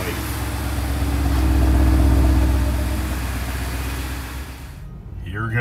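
A 2020 Ford F-350 Tremor with the 7.3-litre gas engine, a loud, low engine rumble that swells and then settles into a steady idle, with a brief break near the end.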